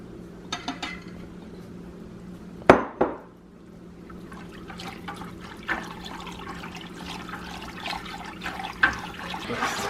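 Water poured into a container of pickling lime for preserving eggs, with splashy pours and clinks of glass or dishware, a couple of sharp louder bursts early on, then steady low liquid and handling noise.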